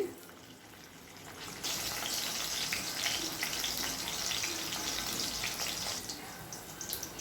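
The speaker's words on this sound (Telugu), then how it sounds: "ఈ ఆయిల్లో ఎర్రగా వేగేంత వరకు కూడా ఈ పచ్చిమిర్చి వేయించండి" Green chillies fry in hot oil with a steady broadband sizzling hiss that swells up after a quieter opening second and carries on evenly, heard close.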